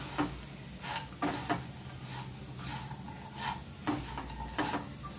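Fried arbi with pomegranate seed being stirred in a pan: a low sizzle under several distinct spatula scrapes and knocks against the metal, spaced irregularly and close by.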